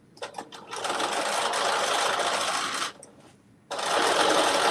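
A sewing machine runs at a steady fast clip on a long stitch through zipper pouch fabric, loud and close, pausing briefly near the end before starting up again.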